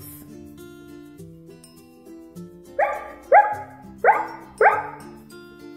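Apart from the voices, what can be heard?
toy dog Pluto barking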